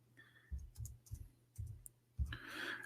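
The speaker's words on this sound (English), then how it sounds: "Oops, got typing. Excuse my keyboard." A computer keyboard being typed on produces soft, scattered clicks and short bursts of keystrokes at low level, with a faint steady hum underneath.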